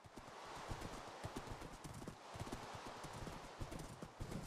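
A horse gallops in the Minecraft game, with quick, rhythmic hoofbeats clopping continuously and fairly close, with faint ambient background.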